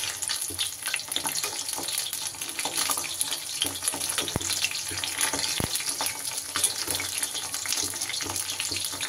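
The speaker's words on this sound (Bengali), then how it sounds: "এইভাবে সবগুলোকেই কিন্তু আমি লাল লাল করে ভেজে নেব" Heron flower fritters deep frying in oil, a continuous close bubbling sizzle with scattered crackles and occasional sharp pops, steady and without speech.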